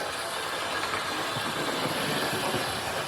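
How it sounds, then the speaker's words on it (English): A Hornby Schools Class model locomotive runs along its track with a steady, even mechanical whirr and faint rolling rattle, close and continuous throughout. "Very, very happy with this locomotive. She's quite steady on the track."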